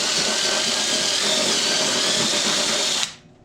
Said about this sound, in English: I'm gonna drill a hole through the 1/8 inch stuff.